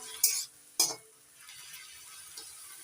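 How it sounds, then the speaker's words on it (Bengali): Khar kol leaves steam in a covered pan while a lid is lifted and a utensil stirs them, giving two sharp clanks up front followed by soft, faint scraping and bubbling. "ঢাকা তুলে নাড়াচাড়া করে দিচ্ছি"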